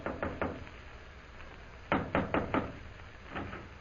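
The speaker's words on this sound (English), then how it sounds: "Jim hurries to the Central Hotel, goes to room 419, and knocks on the door." Knuckles rap on a hotel room door in two clusters of three to four firm knocks, with a fainter pair near the end, close and alone.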